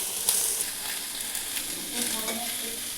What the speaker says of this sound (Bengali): আলুগুলো একটু নাড়ি চাড়িয়ে নিচ্ছি।